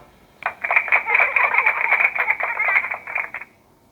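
A burst of tinny, crackling applause plays through a small loudspeaker for about three seconds, then cuts off abruptly.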